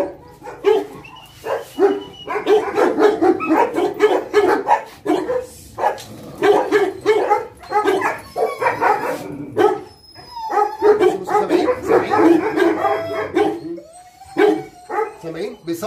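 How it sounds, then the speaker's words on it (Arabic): A dog howls and whines in repeated loud, drawn-out bursts with short pauses between them, close by, while someone talks over it. "كلب بيصوت"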